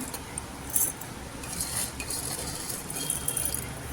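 Spoon scraping and clinking against cookware as steamed spicy village-style stuffed brinjal (udak vangi) is moved onto a plate, close and moderately quiet, with light metallic taps over a steady background hiss and no talk.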